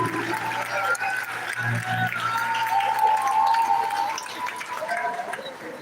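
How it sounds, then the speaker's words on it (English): A graduation crowd at a technical school ceremony applauds the class of 2025, broad clapping under a murmur of voices and an amplified tone carrying through the room. "let's give them a round of applause"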